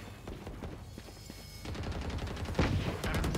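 Gunfire rattles in the video game Valorant, a quick run of sharp shots ending in a louder burst near the end, with no talk over it.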